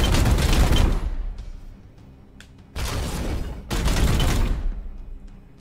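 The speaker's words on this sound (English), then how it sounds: "Bit of hot bolter action." Bolter gunfire from Warhammer 40k: Chaos Gate - Daemonhunters erupts in three heavy, booming bursts of rapid shots, each about a second long, separated by short lulls with faint clicks, loud and close.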